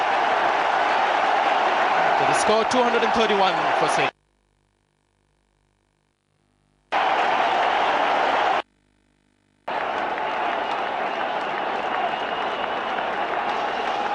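Cricket stadium crowd at a one-day international in Kolkata, India versus England, roaring and cheering as Andrew Flintoff is run out, a dense sustained wall of noise broken by two silent gaps, with a commentator speaking over the start.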